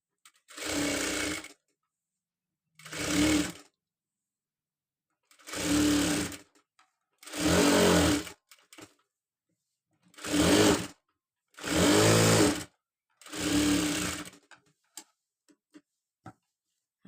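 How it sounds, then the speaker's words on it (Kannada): A sewing machine stitches a designer blouse in seven separate bursts of fast, steady mechanical whirring, each one to two seconds long, with silent pauses between them. "ಇದನ್ನು ರೌಂಡಾಗಿ ಸ್ಟಿಚ್ ಮಾಡ್ತೀನಿ ಆಲ್ ರೌಂಡಾಗ ನೀಟಾಗಿ ಸ್ಟಿಚ್ ಮಾಡಬೇಕು"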